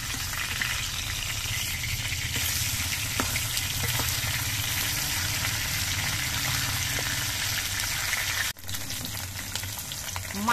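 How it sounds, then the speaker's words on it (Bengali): Falui fish fry in hot oil in a pan, giving a dense, unbroken sizzle that runs steadily for several seconds, close and moderately loud, with a brief dip near the end as the pieces are turned. "মাছগুলোর এক পিঠ কিছুক্ষণ ভাজা হয়ে যাওয়ার পর আমি মাছগুলো উল্টে দিচ্ছি।"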